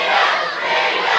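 A wrestling crowd at a tables match roars in a steady, loud wash of cheering and yelling, close and continuous with no breaks.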